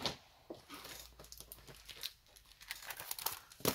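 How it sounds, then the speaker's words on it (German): A plastic bag is pulled away and crinkled, giving quiet, irregular rustling and crackling bursts close up, with no speech. "Machen wir die Tüte weg."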